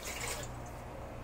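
Water runs steadily into a stovetop idli cooker, a soft continuous splashing and hissing close by with no talk.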